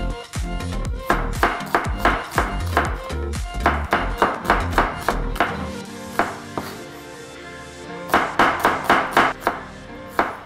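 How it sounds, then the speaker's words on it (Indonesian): Shallots being chopped with a knife on a board, quick rhythmic strikes in bursts with a short pause midway, close and crisp with no talking. "Bawang merahnya kita rajang terlebih dahulu ya."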